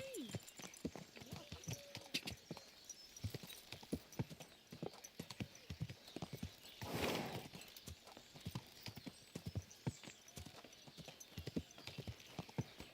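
Horse hooves clip-clopping in a steady trotting rhythm in the video game Kingdom Come: Deliverance II, close and distinct, with a brief whoosh of noise midway; no voices.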